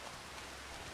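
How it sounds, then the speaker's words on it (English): Steady rain hisses as dense broadband noise with no distinct drops or thunder, filling a short moment without any voices. "I'm gonna wait until the rain dies down"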